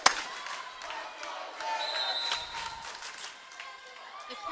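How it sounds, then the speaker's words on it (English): Crowd noise swells and cheers through a girls' high school volleyball match in a gym, a steady roar of many voices with scattered shouts, rising in the middle and again at the end. "The crowd is cheering."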